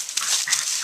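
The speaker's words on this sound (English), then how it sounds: "as you can see, Tundra gets along very well with other dogs" Dogs playing together in a group, with a close, brief burst of high whimpering and panting sounds, loud and without speech.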